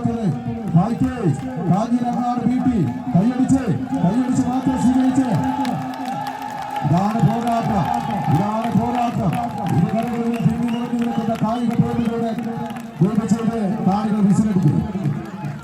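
Spectators at a tug of war clap in rhythm and cheer loudly throughout, a dense crowd roar with shouts rising and falling, close and continuous.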